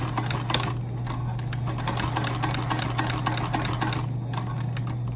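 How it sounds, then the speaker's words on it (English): A sewing machine back stitches a pocket on activewear, with a rapid, steady mechanical chatter of needle strokes over a constant motor hum, close and continuous, and no voices. "We're going to back stitch."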